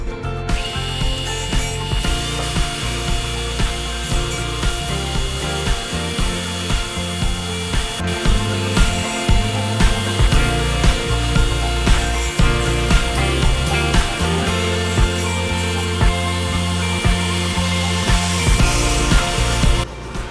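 A power drill whirs steadily and up close, its motor humming with small changes in pitch as the bit cuts through wood, with no one speaking.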